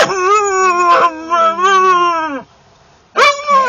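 A dog howling at a dog park, loud and close, with long wavering pitched howls in several bursts separated by a short pause.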